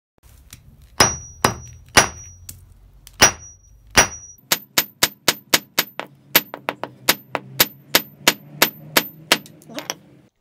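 A hammer strikes a small pile of yellow powder in a sensitivity test, first a few spaced heavy blows, then a rapid run of about twenty sharp, ringing metallic hits, each loud and close.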